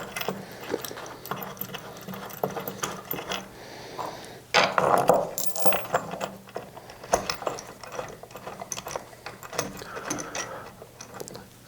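Metal bolts are turned by hand into an Uttermost Laurens accent chair, giving soft, irregular clicks and light scraping close up.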